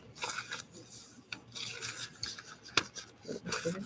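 Paper being trimmed while making a coin envelope from a recycled one, with close, soft rasping and snipping at an uneven rhythm and a sharper click near the end; there is no talking.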